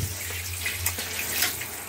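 Steady running water from a tap during a dog's bath, a close hissing flow with small splashes and a low hum beneath.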